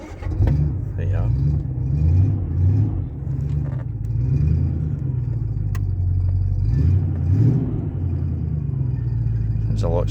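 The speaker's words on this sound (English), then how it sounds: "It's a lot smoother now that the exhaust is not rattling." A Daimler car engine idles with a smooth, steady low rumble after an exhaust repair stopped its rattling, close by, with occasional faint clicks and soft voices in the background.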